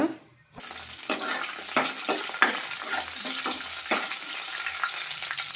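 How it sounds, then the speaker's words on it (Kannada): Mustard seeds, cumin, curry leaves and broken dried red chillies frying in oil in a pan for sambar, a steady close sizzle with small crackling pops and spoon stirs throughout, no talking. "ಪ್ಯಾನಿಗೆ ಸ್ವಲ್ಪ ಸಾಸಿವೆ ಜೀರಿಗೆ ಮತ್ತು ಕರಿಬೇವು ಒಣಮೆಣ್ಸಿನ್ಕಾಯಿ ಎರಡನ್ನು ಮುರಿದಾಕೊಂಡಿದ್ದೀನಿ ಈಗ ಇದನ್ನು ನಾವು ಸ್ವಲ್ಪ ಫ್ರೈ ಮಾಡ್ಕೊಳ್ಳೋಣ"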